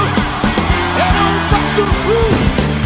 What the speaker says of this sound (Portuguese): Dá um grito de júbilo